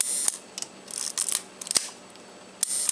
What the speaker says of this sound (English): You can hear the shutter there.